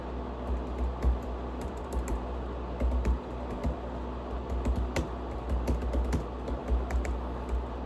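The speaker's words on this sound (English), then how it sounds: "This typing's painful" Steady typing on a computer keyboard, with quick irregular clicks and keystrokes tapping close by against a low background hum, no voices.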